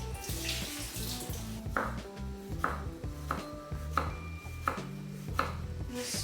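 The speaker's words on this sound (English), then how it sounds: "I'm going to slice up our little kumquats." Knife slicing small kumquats on a cutting board in a home kitchen, close crisp regular chops about twice a second, with faint background water.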